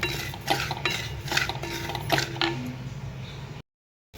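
Oil heats in a pan while a spoon stirs and scrapes against the metal, giving a soft sizzle with clinks and shuffles over a few seconds before it cuts to silence. No one speaks.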